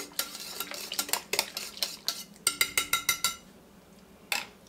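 A spoon stirs cheese into broccoli cheese soup in a pot, a close rhythmic series of scraping clinks against the metal. It speeds up briefly, then pauses before one last scrape.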